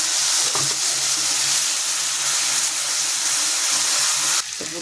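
Black cumin and white mustard seeds sizzle and crackle in hot oil in a kadai, a loud, steady frying hiss that carries on unbroken before easing slightly at the end.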